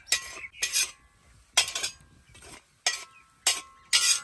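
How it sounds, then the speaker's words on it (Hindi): A flour and sugar mixture is stirred in a metal pan while making Multani sohan halwa, giving repeated bursts of scraping and clinking about every half second, close and fairly loud. "अब मैदे और अंगूरी को मिक्स करेंगे"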